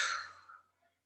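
A single breath exhaled through the mouth in yogic pranayama practice, a soft breathy rush that fades out over about half a second, close and alone in a quiet room.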